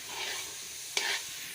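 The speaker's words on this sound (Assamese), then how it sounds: "নাৰিকল ভাজিছে" Grated coconut sizzles steadily in a hot home-kitchen pan, a continuous close hiss with one brief clatter of stirring partway through.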